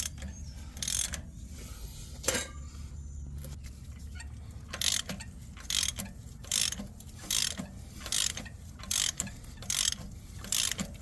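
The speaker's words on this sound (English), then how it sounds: "I'm using a small or a shorter ratchet, not my extended one" Small short ratchet turning a bolt on the 6.0L engine of a 2020 Chevy Express 3500 van during engine replacement, a series of close, crisp clicking bursts in a steady rhythm with no talking.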